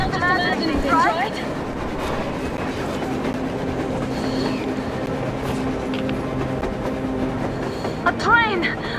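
Train moving on the surface through a blizzard in Metro Exodus, a steady rumbling roll with faint clacking and squealing brakes, moderately distant, under game music and ambient noise.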